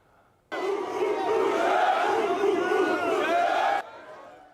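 A crowd of fans lined up overnight in the cold outside a Dick's Sporting Goods store raise a loud, sustained collective cheer and shout that starts abruptly and holds for about three seconds before cutting off.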